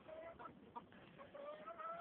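Chickens, including a Silkie, cluck and murmur near a backyard chicken coop, with soft repeated calls and squawks at close range that continue throughout.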